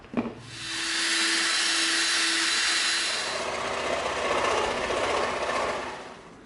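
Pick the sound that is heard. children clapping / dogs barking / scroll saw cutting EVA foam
scroll saw cutting EVA foam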